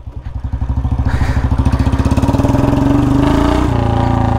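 A motorcycle engine, from a Royal Enfield Bullet 350 and Yamaha R15 V4 drag race, runs loud and close with a fast, regular thumping pulse that slowly builds in speed before shifting pitch near the end.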